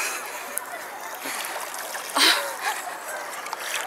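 People wading into water on a hot day cause a soft splash with a brief louder burst of splashing partway through, over a steady background hiss of moving water, and voices are faintly present.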